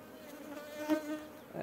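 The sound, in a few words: honey bees buzzing in an open beehive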